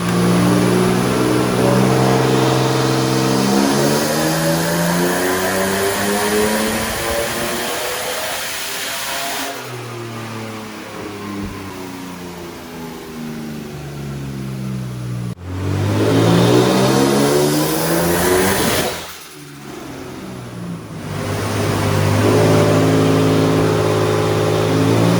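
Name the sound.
BMW E36 engine revving on a dyno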